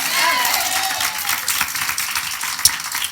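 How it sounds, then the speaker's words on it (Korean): A church congregation at a Sunday morning service claps together in a continuous, moderately loud patter, with voices murmuring underneath and one sharp clap standing out near the end. "우리 하나님께 박수로 영광 돌리겠습니다."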